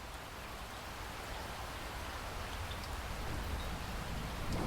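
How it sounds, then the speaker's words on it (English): Rain and wind beating against an old window during a storm, a dense, steady wash of hiss and patter that builds slightly and carries on without a break, no voices. "The sound of rain and wind against an old window is usually fairly soothing"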